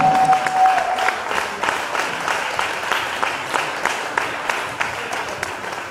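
Church crowd applauding as a pastor comes forward at an intercession gathering for Benin, a sustained wash of clapping with scattered sharper claps and a brief whistle near the start, loud and steady.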